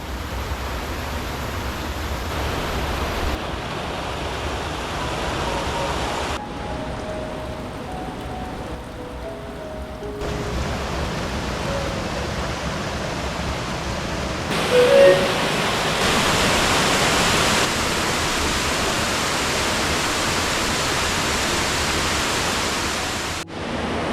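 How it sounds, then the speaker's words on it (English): Steady, roaring rush of a waterfall in Ricketts Glen State Park fills the whole stretch, loud and continuous, with slight shifts in tone but no break. "as you probably guessed by the noise behind me, we have made it to our very first named waterfall"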